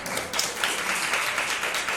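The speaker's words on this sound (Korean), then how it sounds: "우리 하율이 박수 한번" Short burst of congregation clapping during a Sunday morning church service, celebrating a girl named Hayul starting high school; steady, fairly loud applause filling the brief moment.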